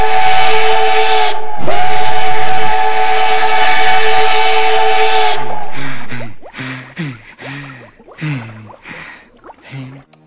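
Nickel Plate Road steam locomotive No. 587 sounds its cracked steam whistle, a loud sustained harsh chime for about six seconds, followed by a series of short chuffing exhaust bursts.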